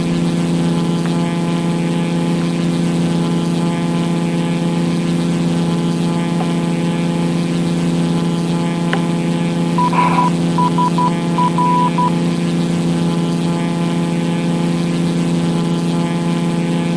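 Small bush plane engine droning steadily in flight over Alaska on a windy day, a loud, constant propeller hum with a few faint electronic beeps partway through.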